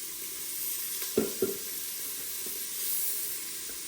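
Onions and garlic sizzle in a hot pan with a steady frying hiss, broken by a couple of brief stirring clatters near the middle.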